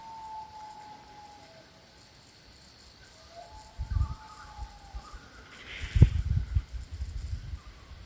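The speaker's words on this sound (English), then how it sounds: "I can hear a loon calling." A common loon calls across a lake, its long wavering wails faint and distant. Low knocks and a soft rustle intrude partway through.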